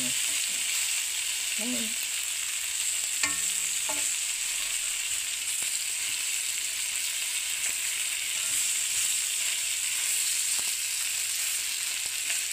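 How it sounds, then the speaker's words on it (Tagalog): Adobo cooked the Ilocano way with garlic, black pepper and salt fries steadily in oil, a continuous bright sizzle running throughout with a few clinks of a utensil and a brief word spoken. "Pag mamantikain po natin ito hanggang makuha natin yung tamang luto niya."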